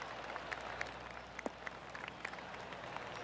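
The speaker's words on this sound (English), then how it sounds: "Oh, golf clap." Polite golf-clap applause from a small gallery in PGA Tour 2K25, a faint patter of scattered claps with a few sharper individual hits, steady and low over a soft crowd bed.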